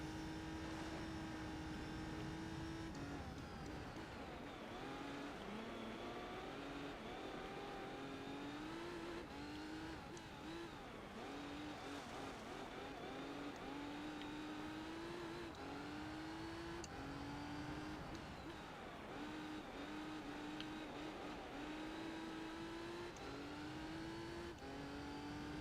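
A race car in Gran Turismo 3 climbs an uphill sector, its engine droning loudly and continuously, revving up through repeated gear shifts with rising pitch sweeps, steady and close throughout.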